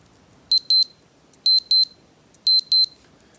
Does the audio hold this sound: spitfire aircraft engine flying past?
no